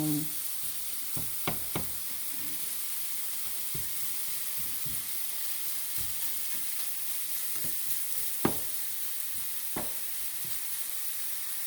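Chopped pork steak frying in a hot pan gives a soft continuous sizzle, broken by occasional sharp clicks and scrapes of a utensil stirring, close and fairly quiet with no talk.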